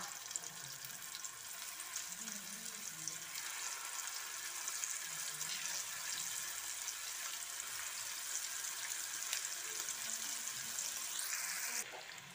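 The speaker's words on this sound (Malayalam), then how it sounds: "അപ്പോൾ അടുത്ത ട്രിപ്പ് ചിക്കൻ വറുക്കാൻ ഇട്ട് കൊടുക്കാണ് കേട്ടോ" Chicken pieces frying in coconut oil, a dense continuous sizzling hiss, quiet and steady throughout, ending with a brief clatter near the close.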